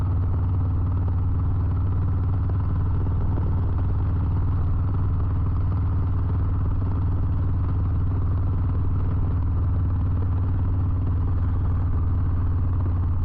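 A Harley-Davidson Low Rider ST motorcycle on the road sends a constant low engine rumble with heavy wind buffeting, loud and unbroken throughout.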